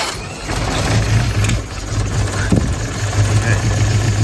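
Crosley engine on full choke being cranked and catching, a steady low mechanical drone running throughout with uneven surges and a brief sharp knock midway, loud and close.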